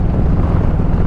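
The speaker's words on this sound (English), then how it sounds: "it's a very windy place this is." Steady, loud wind buffeting the microphone, a constant low rumble with no pauses and no voices.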